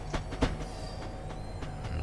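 Electric multiple unit train in Train Simulator 2013 on a high-speed run from St Pancras to Faversham, rumbling steadily with a low drone and periodic rhythmic clicks of wheels over rail joints.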